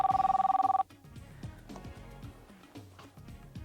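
Telephone bell rings in a fast electronic trill for under a second, loud and clear, then cuts off as background music continues.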